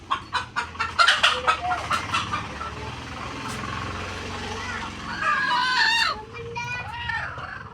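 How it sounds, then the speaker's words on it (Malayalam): A hen clucks loudly after laying an egg, a rapid run of sharp, rhythmic squawks up close that fade into background noise, with a person talking over the later part. "ഈ ഒരു മുട്ടയിട്ടതിനാണ് ഇപ്പോൾ അത്രയും വലിയ സൗണ്ട് ഉണ്ടാക്കി ഞാൻ എല്ലാവരും അറിയിക്കുന്നത്."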